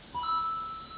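An electronic timer tone marking a completed obstacle on a preteen World Ninja League course sounds as a steady, clear beep that starts just after the onset and holds for most of a second.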